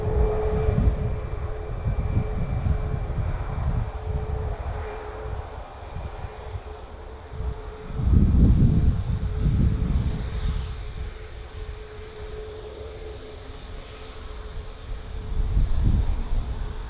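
Malta Air Boeing 737 MAX 8 jet landing at Bristol Airport, a sustained roar of engines with a faint steady whine, swelling louder around the middle and again near the end, heard from a distance with no talk.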